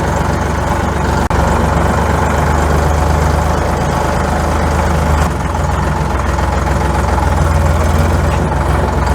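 A tractor engine runs loudly and steadily nearby, a constant low rumble idling throughout with no talking.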